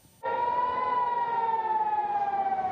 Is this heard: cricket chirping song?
no